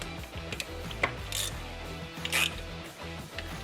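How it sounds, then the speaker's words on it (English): A ratchet tightens the T40 shift rail screw on a Corvette short-throw shifter, giving rapid clicking pawl ticks in short runs with a few brighter metallic scrapes, close up and without voices. "we want to tighten the T40 shift rail screw"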